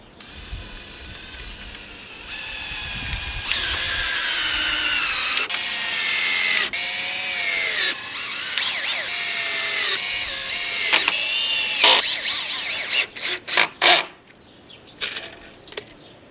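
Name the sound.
power drill driving screws into wooden fence boards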